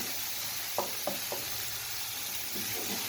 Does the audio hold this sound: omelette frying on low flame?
yes